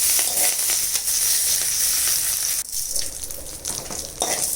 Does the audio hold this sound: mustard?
yes